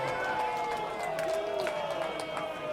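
Small baseball crowd at a Brantford Red Sox at Welland Jackfish game reacting to a called strike, a moderate murmur of voices and sliding jeers, fairly faint and diffuse.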